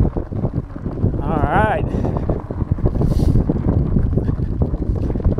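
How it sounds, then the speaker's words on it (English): Strong wind buffets the microphone during an outdoor bike ride, a continuous low rumbling roar throughout, with a person speaking briefly over it. "A little bit windy"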